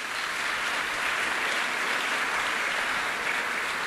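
A church congregation claps together in sustained, dense applause during a sermon, a steady wash of many hands filling the space with no pauses for nearly four seconds.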